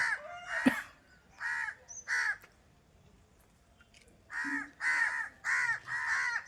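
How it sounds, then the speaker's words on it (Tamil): A nearby crow gives sharp, raspy caws, first a few spaced calls, then a quick run of four after a brief quiet gap, with no voices. "காக்கா ஏன் கத்திட்டு கிடக்கு?"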